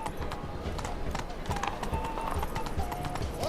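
Roach, the horse from The Witcher 3, trots along with a close rhythmic clip-clop of hooves while a voice speaks briefly over the steps.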